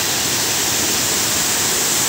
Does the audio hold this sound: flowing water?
yes